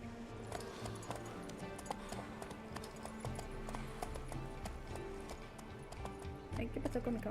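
A horse in The Witcher 3 moves with steady rhythmic clip-clop hoofbeats, soft and slightly distant, with faint game background sounds and a brief stir near the end.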